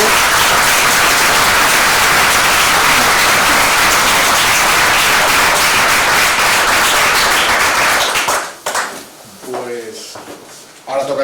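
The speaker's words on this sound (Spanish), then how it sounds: "si damos un aplauso al ponente." Sustained applause from a seminar audience after a talk, loud and dense for about eight seconds before it cuts off, followed by someone speaking.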